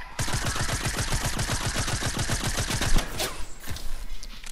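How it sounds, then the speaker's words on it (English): Rapid automatic gunfire in a shooter video game, loud bursts of rattling shots firing steadily for about three seconds, then scattered echoing shots and clatter trailing off. "I'm already being shot at."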